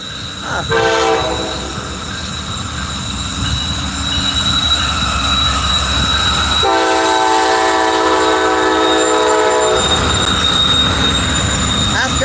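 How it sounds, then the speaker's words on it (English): A double stack intermodal freight train rolls past trackside in North Fork, West Virginia, a loud, steady rumble with harmonic horn blasts near the start and again in the middle, and wheel squeal running throughout. "That's a double stack intermodal."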